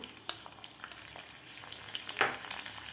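Five or six sliced garlic cloves sizzle and fry in hot oil for a tadka, a steady soft crackle with scattered pops and one brighter spatter burst near the end, close and fairly quiet with no talking.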